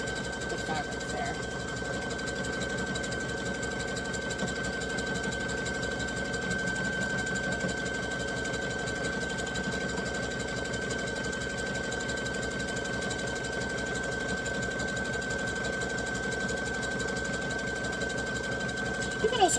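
A sewing machine stitches a shirt in a steady, continuous mechanical hum with a faint rhythmic vibration, running evenly for the whole stretch with no talk over it.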